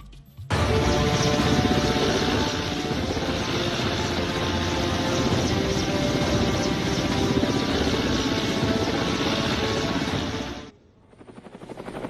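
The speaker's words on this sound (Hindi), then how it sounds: "इस समय मैं हेलीकॉप्टर में सवार हूं" Helicopter flying over Patna, heard from on board as a loud, steady rotor and engine roar with a dense rhythmic chop, continuous until a sudden fade at the end.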